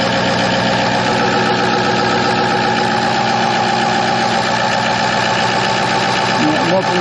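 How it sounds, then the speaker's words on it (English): A 2006 Ford F550 diesel truck engine runs steadily up close: a loud, continuous, dense rumble that stays even throughout, with a brief rise in revs near the end. "It's really pretty smooth for a diesel, kind of loud, but that is all diesels."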